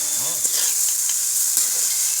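Food sizzles in a hot pan while it is stirred, with a constant frying hiss and a few soft scraping and clinking strokes, close up.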